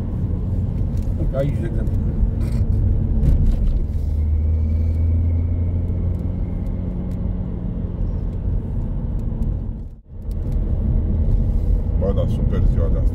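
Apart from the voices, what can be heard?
Renault Laguna Coupe car driving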